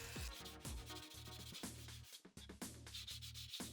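Steady rhythmic sanding strokes, a sanding sponge rubbed back and forth against hard 3D-printed plastic helmet parts in close, repeated scrapes.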